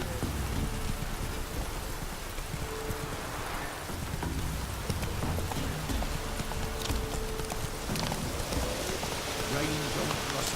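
Light rain drizzling in The Witcher 3, a constant soft wash of falling drops with hoofbeats clopping along and faint game sounds underneath.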